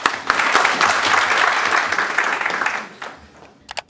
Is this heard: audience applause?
yes